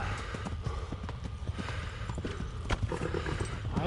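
Horse hooves galloping in the video game Kingdom Come, a steady rapid clip-clop drumming close up and loud over a continuous game soundscape, with no speech.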